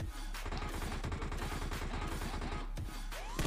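Rapid gunfire in PUBG Mobile, with dense bursts of automatic shots that rattle on almost without a break, loud and close, sometimes sounding like several guns firing at once.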